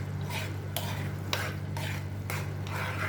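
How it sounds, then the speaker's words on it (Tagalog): Egg is stirred into fish sauce in a pan for sarciadong isda: a spoon or spatula scrapes in repeated strokes, about one per half second, over a faint sizzle and steady low hum. "haluin naman natin nang hindi makulta ang itlog o hindi mamuo"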